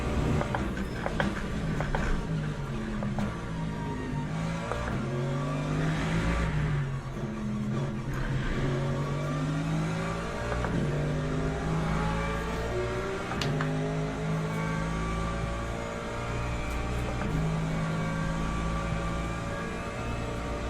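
Hypercars race past on the Le Mans Ultimate track, their engines whining and climbing in pitch through gear changes. The sound sweeps by at moderate distance for about twenty seconds over a steady low rumble.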